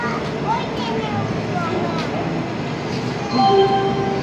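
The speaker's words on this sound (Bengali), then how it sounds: "ট্রেন ছেড়ে দিয়েছে" A train pulls out of a Delhi railway station with a steady low rumble under the murmur of the platform, swelling slightly louder near the end.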